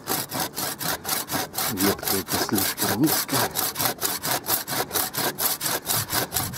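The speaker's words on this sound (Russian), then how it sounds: "Вот эта ножовка у меня сырую древесину пилит лучше всего." A folding garden handsaw cuts through a fresh, green branch in steady, rhythmic push-pull strokes, close and loud, with brief quiet talking over the sawing.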